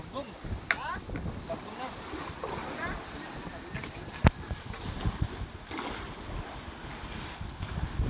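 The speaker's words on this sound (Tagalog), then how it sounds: "medyo maingay po ang hangin. Lakas ang hangin, oh, galing norte." Strong north wind buffeting the microphone in a continuous rumbling roar, with occasional knocks and gusts and a voice speaking underneath.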